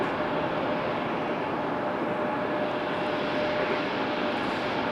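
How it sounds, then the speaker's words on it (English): A Southwest Boeing 737-800 airliner pushes back from Terminal 1 at Raleigh-Durham airport, a steady broadband engine whine and roar heard at a distance with no voices. "Southwest up on flight radar, pushing back from Terminal 1, Southwest 1136."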